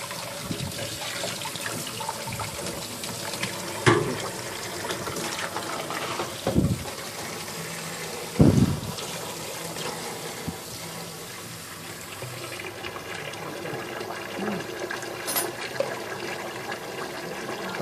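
Water drains out of an ice cream machine in a steady rushing, trickling stream, broken by a few louder gurgles and splashes, with no talk.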